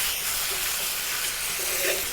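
Steady loud hiss and sizzle of wide rice noodles coated in dark soy sauce stir-frying in plenty of oil in a very hot wok, continuous with no talking.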